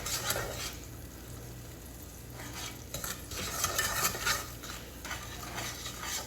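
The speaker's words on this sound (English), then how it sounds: "I'm just going to stir it up and let it start to caramelize." Brown sugar mixture being stirred in a pan over low heat, soft scraping and swishing strokes in an irregular rhythm with a light background sizzle, close and moderately quiet.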